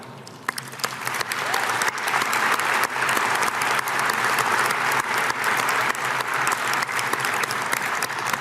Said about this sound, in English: Let's take a moment and applaud all of them.